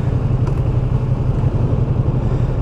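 Loud, close engine and exhaust drone from a 2023 Ducati Panigale V2 motorcycle being ridden through city streets, a steady low throbbing roar with a fast regular pulse and no talking.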